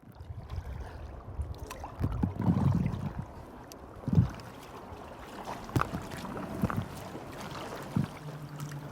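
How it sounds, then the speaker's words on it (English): Kayak paddling on a river heading downstream toward Kew Bridge: irregular soft splashes and paddle strokes in the water over steady outdoor ambience, with a few louder dips and knocks, no voices. "I'm in my kayak right now and we're pointing downstream towards Kew Bridge"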